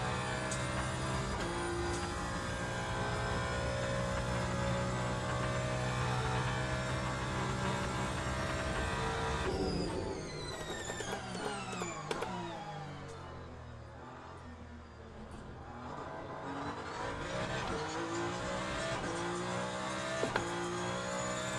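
Hypercar race car engines roaring around Monza in the sim racing game Le Mans Ultimate: a steady loud engine drone, then gear changes and a pitch drop around braking before the engines build and rev again.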